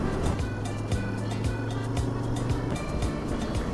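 Royal Enfield Interceptor 650 twin-cylinder engine idling steadily after a cold start before a coastal ride, a close, continuous low rumble with an even pulsing beat and no voices.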